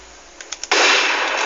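Gunfire erupts in a CS:GO shootout: a few sharp isolated shots, then a sudden sustained loud burst of rapid automatic fire that fills the rest of the moment, with no talking.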